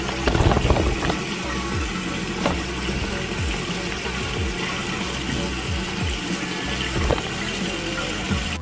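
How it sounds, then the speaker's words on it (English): Water running from a tap into a sink while a face is rinsed, a steady close splashing flow with gurgles, no talking. "So now you're actually gonna really like rinse your face off."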